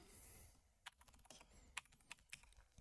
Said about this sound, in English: I type real quick so that hopefully you don't see any weird